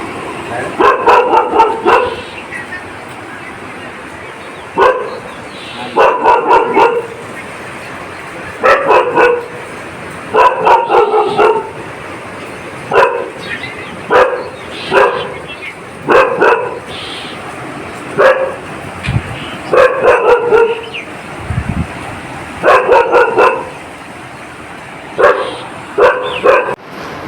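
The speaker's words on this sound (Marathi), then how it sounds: "बळच भुंकतो" A dog barks repeatedly near a farmhouse surrounded by floodwater, loud bursts of barking in short clusters with brief pauses between them, and a faint voice now and then.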